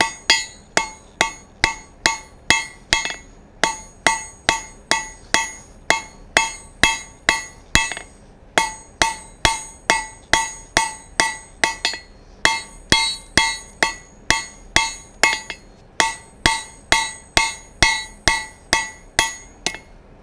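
Steady, rhythmic hammer blows with a hand-held fuller drawing a taper on hot metal at the anvil, close and loud, about three strikes per second with brief pauses between runs, and no talk.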